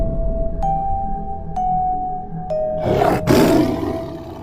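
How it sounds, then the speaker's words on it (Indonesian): A black panther growls as a sound effect in a narrated story: a low, rough snarl rising into a loud, breathy roar burst, preceded by a few sharp ticking accents over a steady tone. "Macan itu berpaling, mendesis, lalu ia mendekat dengan langkah yang lambat."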